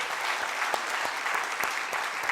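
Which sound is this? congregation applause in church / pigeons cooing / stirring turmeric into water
congregation applause in church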